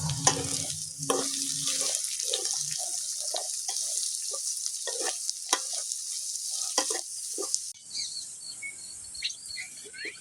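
Onion frying with garlic in a pan for a village-style garlic rice, a steady close sizzle broken by repeated scraping stirs, thinning out abruptly near the end.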